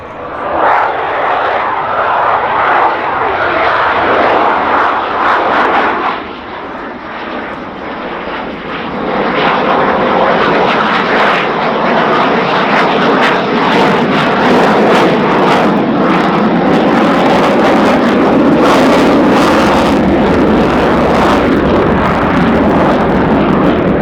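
A Swiss Air Force F/A-18 Hornet jet makes a fly-past at an airshow, its engine roar loud and continuous throughout, with a slight dip partway through and wind buffeting the microphone.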